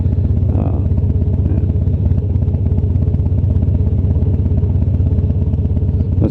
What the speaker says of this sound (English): he's got a little Honda single cylinder